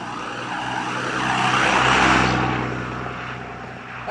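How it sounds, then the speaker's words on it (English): A noisy truck passing on a road, its engine and tire roar swelling as it approaches, peaking close by and fading away over a few seconds. "That's a noisy truck."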